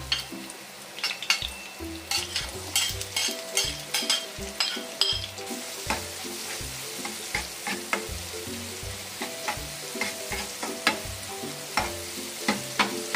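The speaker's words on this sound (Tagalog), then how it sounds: "Magigisa na po tayo ng bagoong." Shrimp paste (bagoong) sautéing with garlic and onion for vegetable kare-kare, a crackling sizzle under brisk, rhythmic spatula scrapes and knocks against the pan, close and steady, no voices.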